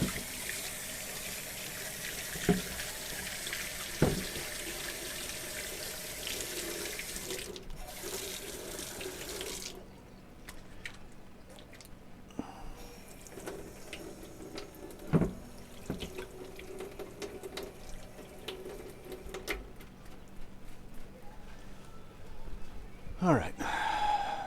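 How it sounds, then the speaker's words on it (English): A kitchen tap runs steadily while someone washes their hands at the sink, the splashing stream broken by brief clatters and changes in the flow, with a voice speaking at moments. "All right, let me wash my hands now."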